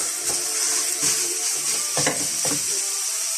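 Cut round of pork sizzling in a dry non-stick pan with no added fat, a steady bright crackle overlaid with periodic scraping and stirring knocks roughly every half second, close and fairly loud throughout.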